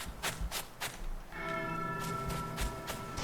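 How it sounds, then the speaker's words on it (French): A bell rings in the video game Sky: Children of the Light, a sustained tone with a bright shimmer. Soft tapping steps come before it and continue over it at low volume. "Bah, la cloche, qui sonne."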